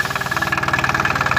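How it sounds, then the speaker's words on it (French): A car engine runs noisily just after starting, a loud, close, rhythmic knocking chug repeating quickly and evenly throughout, with no talk. "le moteur fait un peu de bruit, enfin fait beaucoup de bruit quand il démarre"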